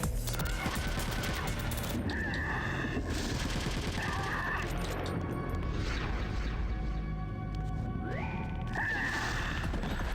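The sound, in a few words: FAMAS rifle gunfire in video game Metal Gear Solid: The Twin Snakes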